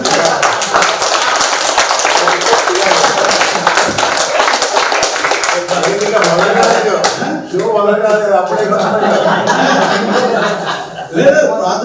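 Audience at an MNIT Hyderabad chapter meet in Vijayawada breaks into dense, loud clapping that runs for several seconds, then thins into scattered claps and chatter before a final short burst.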